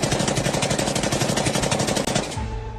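A loud, close burst of rapid automatic gunfire rattles on for over two seconds, then breaks off into a lower rumbling tail.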